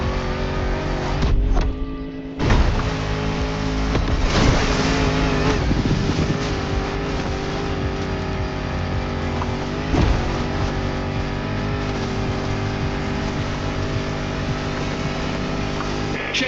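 A Defender off-road vehicle with a 400-horsepower engine drones loudly and continuously in The Crew Motorfest racing game, its revving rising and falling under a steady roar, with a short dip near the start.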